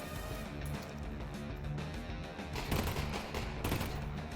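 Gunfire in a video game, dense rapid bursts of automatic shots in a steady rattling stream that grows heavier toward the end, loud and close with no talk.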